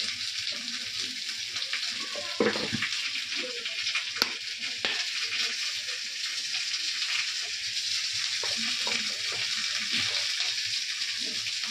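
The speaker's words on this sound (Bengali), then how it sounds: "আলুটা একটু ভাজা ভাজা হবে" Potatoes frying in a home kitchen pan with dried red chillies, a steady close sizzle with occasional stirring clatters and no talking.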